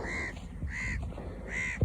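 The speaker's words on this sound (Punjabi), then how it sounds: "ਇਸ ਕਿਆਰੇ ਦੇ ਵਿੱਚ ਹੈਗੀ ਆ ਹਜੇ ਵੀ ਕਾਂ" A crow caws three times in a slow, evenly spaced rhythm, clear and fairly near over a low background rumble.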